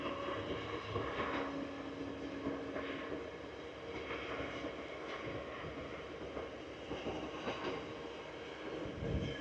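A train rolls past on a rural line near Gainsborough, a steady broad rumble holding at moderate loudness throughout with faint squeals and clatter over it, no voices.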